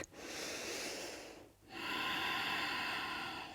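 Strong, forceful breaths from a person doing power yoga: a long nasal exhale, a brief pause, then another drawn-out breath, close and alone.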